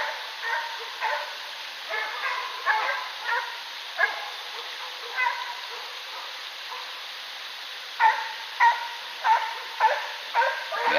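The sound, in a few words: hunting dogs barking while chasing a bear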